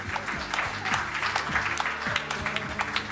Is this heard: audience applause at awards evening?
yes